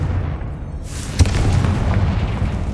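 A Confringo fire spell bursts in the video game Hogwarts Legacy: one sharp, loud blast lands midway through, over a steady rumbling game backdrop that continues after the hit.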